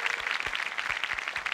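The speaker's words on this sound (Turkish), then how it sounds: "Hakemlere alkışlayalım." Studio audience applauding on a 1995 Turkish TV talk show, a steady wash of many hands clapping filling the whole moment without pause.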